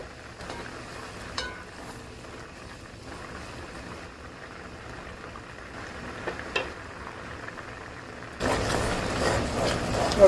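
A thick coconut drops mixture of grated coconut and spices is stirred in a pot on the stove, a soft low scraping and bubbling that stays quiet, then grows louder and rougher near the end. No one speaks.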